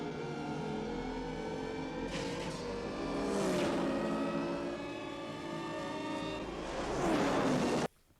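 A smooth, humming futuristic light cycle engine whine from the film Tron (1982) swells and sweeps in pitch as vehicles zoom past, ending in an abrupt cut to silence.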